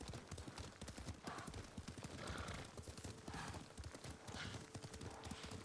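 Horse hooves clip-clop at a steady trot while riding in Ghost of Tsushima, a close, rhythmic run of hoofbeats with faint low voices underneath.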